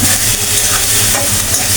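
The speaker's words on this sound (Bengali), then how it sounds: "এটা একটু ভাজা ভাজা করে নেবেন" Water lily stems fry in a pan with coconut paste, green chili and shrimp, giving a loud, dense close-up sizzle with stirring scrapes over a low rumble, steady for the short stretch.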